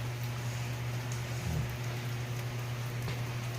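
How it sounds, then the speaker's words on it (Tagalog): Steady heavy rain pours down in Cebu province, a dense, even wash of noise, with a low constant hum underneath and no voices. "napakalakas ng ang ulan mga kaibigan"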